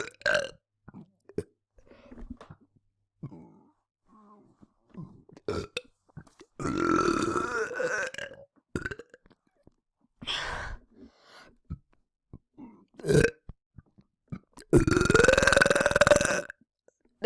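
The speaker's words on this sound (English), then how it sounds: "There, you got your premium burp." Burps in a home bathtub: several long, loud, croaky belches with echoing bathroom resonance, separated by quiet stretches with small breaths and faint noises.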